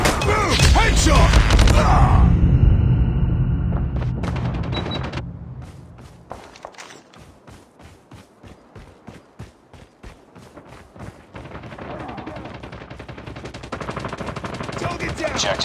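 Pistol gunfire in the mobile shooter COD Mobile: dense, loud shooting at first, then a run of sharp, evenly spaced single shots, followed by heavier firing again.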